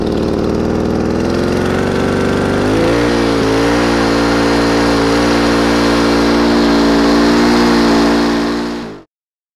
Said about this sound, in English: And then go ahead and pull it and start it.